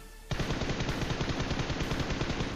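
Rapid 7mm gunfire in the mobile game PUBG Mobile, bursting in loud and close after a brief quiet moment and continuing as a dense, unbroken automatic stream of shots.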